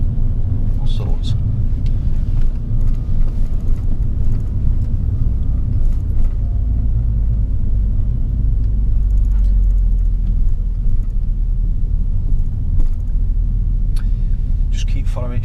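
Road traffic rumbles steadily from inside a car during a driving lesson, a continuous low engine and road drone with passing vehicles, while people speak over it.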